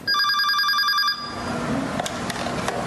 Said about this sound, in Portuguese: Esse é o telefone das emergências.